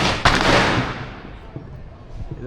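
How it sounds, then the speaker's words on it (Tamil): Firecrackers go off at Chalong Temple in Phuket: a sharp, loud crack followed by a long, fading rumble, with faint voices and a few smaller pops later. "ஏதோ வெடி வெடிக்கிறாங்க போல இவங்க."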